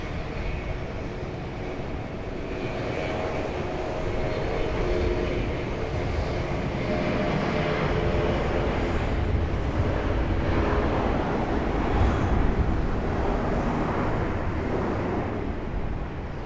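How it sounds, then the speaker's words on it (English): A Delta 717 jet airliner departs from Raleigh-Durham, its engine roar a steady broadband rumble with a faint whine, holding at moderate distance throughout with no voices. "Turn and burn for the Delta 717. Another good sounding departure."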